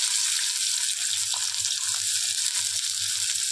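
Chili and onion fry in a pan, giving a steady, bright, hissing sizzle that holds evenly throughout at close range, with a faint low hum beneath and no talk.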